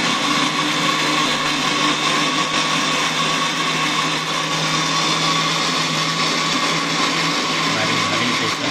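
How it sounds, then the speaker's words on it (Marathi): A mixer grinder whirs loudly and steadily while grinding cooled chapati, a dense unbroken motor roar with rattling blades lasting throughout, close and alone without any voices. "इथं चाललंय आता बारीक करायचं मिक्सरवर"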